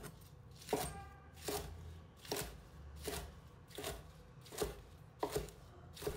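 A knife chops garlic sprouts into short pieces on a cutting board, with about eight firm, evenly spaced thuds, close and clear with no voices.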